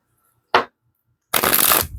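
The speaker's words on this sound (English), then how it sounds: "So I don't just let them fall out. I shuffle them." Tarot card shuffling close up: a quick single riffle followed by a longer, louder rustling shuffle of the deck, with no talking.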